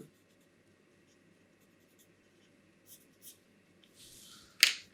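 A pen or marker scratches quietly during a maths lesson on geometry, with a few soft strokes and then a louder, brisk stroke at the end in an otherwise quiet room.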